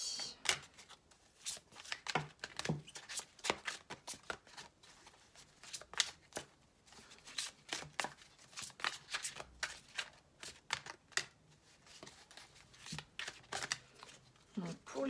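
Tarot cards are shuffled close up for a reading, giving a run of crisp riffling and slapping bursts at a fairly quiet level, with soft speech-like sounds at times.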